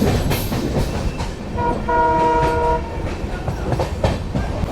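A diesel locomotive hauling a passenger train through the Indian countryside, its steady rumble and wheel clatter joined midway by a sustained multi-tone horn blast lasting about a second.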